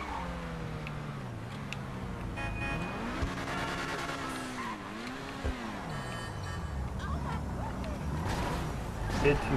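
A car crash in the Grand Theft Auto V video game: revving engine tones sweep up and down, with a brief impact thud midway, under continuous game noise and talking voices.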